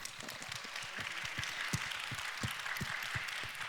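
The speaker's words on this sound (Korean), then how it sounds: "응원의 박수 한번 부탁드릴게요." Conference audience claps in support, a dense, fairly even patter of many hands at moderate distance, with no voices over it.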